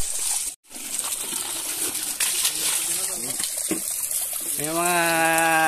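Running water splashes and trickles steadily while native catfish (hito) are cleaned outdoors in rural Pola, Oriental Mindoro, with voices talking over the continuous flow.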